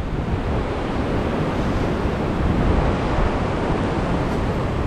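River water flowing toward Marikina, a steady broadband rush with wind buffeting the microphone, loud and continuous for the whole stretch with no talk.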